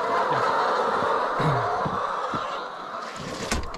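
Hens in a snowy-season coop cluck and murmur together as people enter, a dense close flock chatter with occasional sharper calls.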